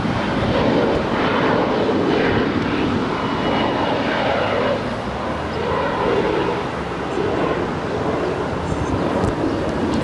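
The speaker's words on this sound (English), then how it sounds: "this is Emirates Flight 216, number 9 worldwide, tracked on Flight Radar 24" Emirates Flight 216 roars through a long, steady, loud broadband rumble at LAX, wind buffeting the microphone and the sound swelling and easing slightly with no voices.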